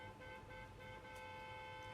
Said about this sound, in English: Who in the hell is honking?